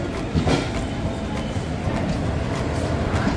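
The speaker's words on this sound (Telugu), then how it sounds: "రేణిగుంట నుంచి స్టార్ట్ అయిపోయింది ట్రైన్." A passenger train rolls along the rails after pulling out of Renigunta, giving a steady, close rumble with faint rhythmic clatter throughout.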